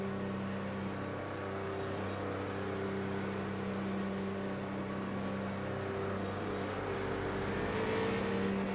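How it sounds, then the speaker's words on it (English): In the iRacing video game, the pace car's engine drones at Thompson Speedway with a steady, humming tone at a constant pace as it circles the track, heard continuously and without talk. "On board with that iRacing pace car right now."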